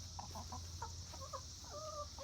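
A backyard flock of pet hens clucks softly nearby in short rising and falling calls over a steady low hum, several brief notes in quick succession.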